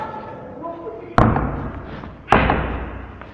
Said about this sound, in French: ferme la porte